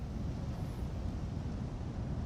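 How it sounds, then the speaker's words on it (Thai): Strong wind roars steadily against the microphone outdoors, a constant low rumbling buffet with no pauses. "ที่นี่ลมแรง"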